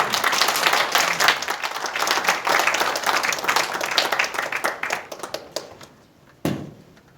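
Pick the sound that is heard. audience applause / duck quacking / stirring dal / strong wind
audience applause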